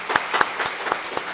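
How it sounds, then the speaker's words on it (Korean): A church congregation claps for the united choir, with sparse, distinct claps falling in a loose, uneven rhythm that sounds more like scattered hand claps than full applause. "우리 찬양대를 향해서 박수 한 번 치겠습니다."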